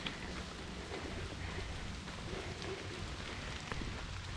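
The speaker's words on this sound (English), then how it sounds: "And it is raining, but it's lovely." Rain falling in woods on the way up the Skirrid Mountain, a steady soft patter and hiss across the canopy, moderately faint and continuous with no talk.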